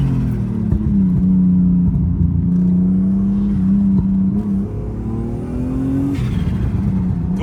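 A low-budget turbocharged BMW E36 driving with no wastegate under heavy boost, its engine droning loud and close from inside the car with a rising turbo whine, then a lift-off.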